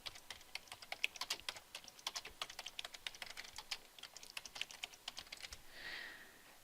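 Steady typing on a computer keyboard, a quick run of light, irregular key clicks, fairly close and quiet, with no voices.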